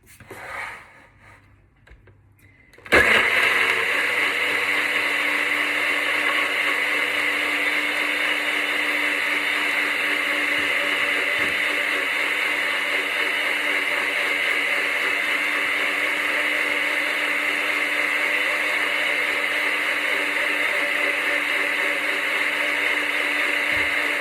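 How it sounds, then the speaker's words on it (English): A chocolate skin-care mixture being whisked: after about three seconds of near quiet, a loud, steady motorised whir starts and runs evenly without a break. "And I'm just gonna whisk it."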